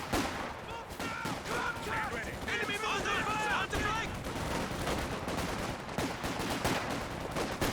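MG34 machine gun fire in Company of Heroes 2 rattles in repeated bursts amid other battlefield gunfire and explosions, mixed fairly loud over a busy game soundscape.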